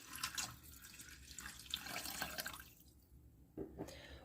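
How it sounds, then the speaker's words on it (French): Water mixed with stock pours into a Cookeo multicooker pot over rice, a continuous splashing trickle that thins out and ends with a couple of brief drips and clinks, heard alone. "On vient ajouter nos 600 ml d'eau additionnée de bouillon."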